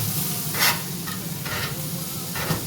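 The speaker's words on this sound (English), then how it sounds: "Getting that bacon fat there through the onions there, get them kind of worked in." Onions being stirred through bacon fat in a pan, a constant close sizzle punctuated by three or four bright scraping sweeps of the utensil, without any talk.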